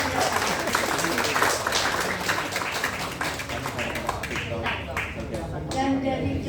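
An audience at a national seminar in Jayabaya applauds, a dense run of clapping that carries on steadily and thins toward the end while a voice speaks over it.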